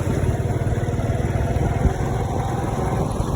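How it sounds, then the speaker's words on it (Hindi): A motorbike engine hums steadily and close by while riding along a road on a hot sunny day, a continuous mid-pitched drone with no voices over it. "रास्ते में हम बाइक पर जा रहे हैं"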